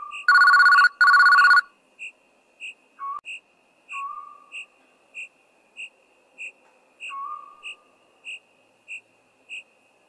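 A phone rings loudly in a horror video game. Two long, harsh electronic ring bursts open it, then a regular series of short chirping beeps continues with some faint tonal blips between them.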